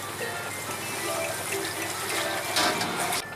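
Chinese cooking wine poured into a pot of pork humba, a steady liquid splash and trickle that brightens near the end, alone and fairly loud.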